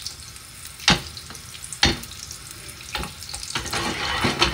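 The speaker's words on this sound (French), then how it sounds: "une fois que le beurre est fondu, que vous entendez chanter l'huile et le beurre" Butter and oil sizzle and crackle in a pan, a steady frying hiss broken by several sharp clanks or stirring knocks, close and moderately loud, with no talking.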